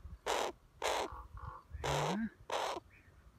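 A young captive raven caws close by in four loud, harsh calls in an uneven rhythm, with a person murmuring briefly between them.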